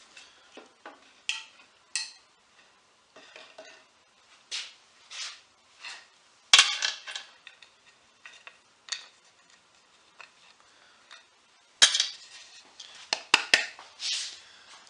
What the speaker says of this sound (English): All right, I'll get the rest of those screws off.